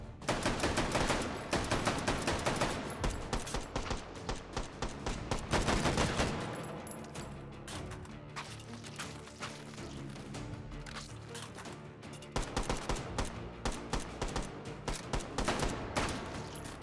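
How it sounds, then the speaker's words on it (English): Rapid gunfire from various guns in the VR shooter H3VR, Take & Hold mode: dense bursts of automatic fire, a quieter stretch of scattered single shots, then another loud volley. "Using every gun at my disposal."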